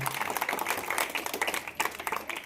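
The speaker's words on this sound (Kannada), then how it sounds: "ಗುರುಗಳಿಗೆ ಮತ್ತೊಮ್ಮೆ ಜೋರ ಚಪ್ಪಾಳೆ ಬರೋದು ಮಕ್ಕಳ ನಿಮ್ಮ ಎಲ್ಲ ಕಡೆಯಿಂದ" Audience applause for a speaker at a school stage event, a dense patter of many hands clapping steadily for a few seconds at moderate distance, with no talk over it.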